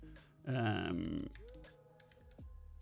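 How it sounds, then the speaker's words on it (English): Keys clatter on a computer keyboard in soft, uneven bursts, with a brief louder tonal voice-like sound near the start and a low background hum throughout. "Just typing a little bit in the good old,"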